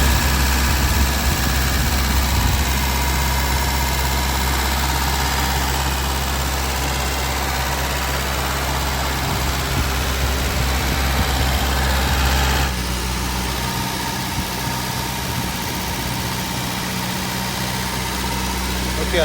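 A 1973 MGB GT engine idles steadily right after installation, a continuous low rumble with a constant tone that shifts slightly partway through, running throughout with no pauses.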